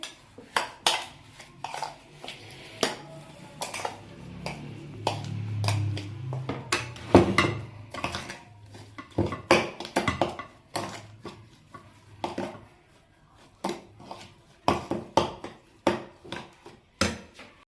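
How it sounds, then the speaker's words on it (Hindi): Ice cream being mixed in a bowl with chopped dates, chaat masala and sugar, repeated irregular spoon clinks and scrapes against the bowl, close and fairly loud, with a softer squelchy stretch in the middle. "इसको हम अच्छे से मिक्स करेंगे।"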